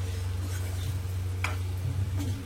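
Masala okra (bhindi) being stirred in a pan over a low flame, with soft scraping and light ticking strokes over a steady low hum from the stove.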